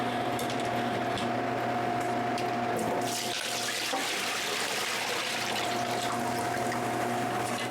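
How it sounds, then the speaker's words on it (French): Water rushes steadily out of an air compressor tank as it is drained, a continuous loud hiss and splash for the whole stretch, with no talking over it. "voici toute l'eau que je vide de mon réservoir"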